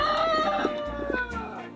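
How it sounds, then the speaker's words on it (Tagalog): A rooster crows once, a drawn-out call at moderate distance over faint background noise. "natitilaog pa yung manok"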